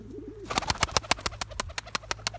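Repeated soft cooing from a pigeon, a rapid rhythmic series of throaty pulses close by, following a brief low warble at the start.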